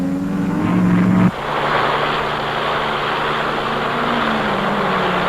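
A 1957 race car at the Sebring 12 Hours drives through the chicane: a loud, steady engine roar holds a falling pitch as it passes close by and keeps sounding.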